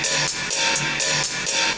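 Hi-hats ticking in a beat, bright repeated hits in a steady pulse with the beat sounding loud and continuous, alone without voices.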